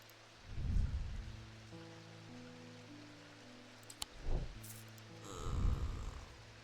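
Soft rain hisses faintly in the video game Mimicry, under low, deep rumbling swells that roll in and fade three times, with a sharp click partway through.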